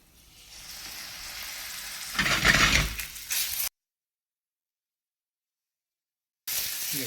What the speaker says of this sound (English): You put the garlic in while the oil's still busy heating up. Nice little sizzle on it.